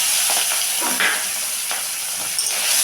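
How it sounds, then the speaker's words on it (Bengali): Shrimp rubbed with salt and turmeric fry in hot oil, giving a steady close sizzling hiss with a few soft pops and crackles throughout. "এখন আমি এটাকে ভেজে নেব।"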